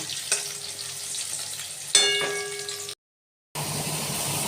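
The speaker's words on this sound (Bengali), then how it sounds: "হলুদ নুন মাখানো আলুগুলো লাল লাল করে ভেজে নেব।" Turmeric and salt coated potatoes fry in oil with a close, steady sizzle and crackle plus a couple of stirring clinks. A short dead-silent gap cuts in before the frying sound returns.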